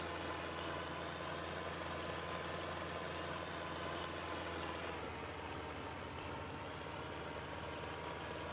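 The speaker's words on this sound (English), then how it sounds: "there goes the white tractor again with another load of crap" A tractor engine in the farming game Farming Simulator 22 runs at a steady low idle, a constant droning hum with a slight shift midway and no talk over it.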